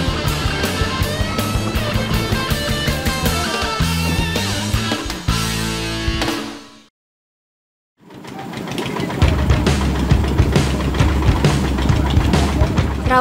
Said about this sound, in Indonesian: Raungan suara mesin dompeng berkekuatan 10 PK menjadi awal petualangan saya di bumi Rafflesia.